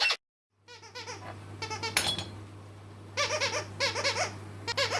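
The Sweep puppet's squeaker gives bursts of high, rapid squeaks in irregular runs over a low steady hum, with short pauses between the runs.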